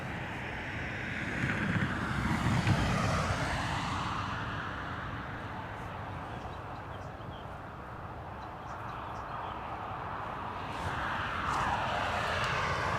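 An Aer Lingus airliner inbound from Rome approaches Dublin Airport on a windy morning, its engines a steady, broad roar that swells slightly over the span, mixed with wind buffeting the microphone.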